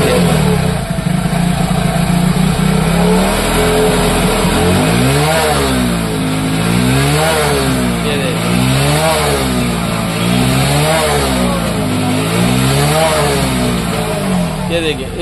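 A Hero HF Deluxe BS6 motorcycle with a jerky, surging fault, blamed on the fuel tank pump motor, idles loudly and then revs up and down in a steady repeating wave while someone talks over it.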